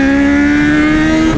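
Motorcycle engine revving hard close by, a loud sustained high drone with a strong steady tone and slight pitch rise near the end, heard on an Uber ride.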